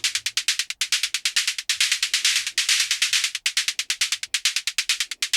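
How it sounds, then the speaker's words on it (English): Fast, bright electronic hi-hats tick in a driving techno rhythm, with a soft low thump underneath at intervals; no one speaks. "today we're going to be making some hi-hats that breathe"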